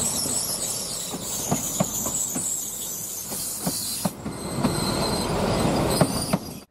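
A train at Eksjö railway station in Sweden, served by railbuses to Nässjö, rolling past nearby with a steady rumble, regular wheel clicks over rail joints and a high squeal of wheels on track, no voices.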